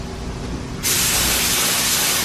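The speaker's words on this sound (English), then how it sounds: "we're going to set our atomization air to regulator 2 to about 15 to 20 PSI" A Binks spray gun fed by a pressure pot sprays with atomization air at about 15 to 20 PSI, a loud, close, continuous hiss that jumps sharply brighter and stronger partway through, with no talk.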